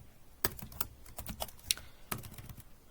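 Keys on a computer keyboard are struck in quick, irregular clicks and taps at close range, with short pauses between bursts and no talk.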